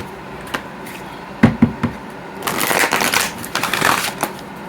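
A deck of oracle cards is handled close by: a few sharp taps, then a soft riffling, shuffling rustle for about two seconds, with no talking.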